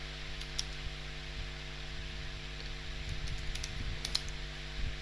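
Keys clack in light, uneven bursts on a computer keyboard, close and fairly quiet, over a steady electrical hum from the machine.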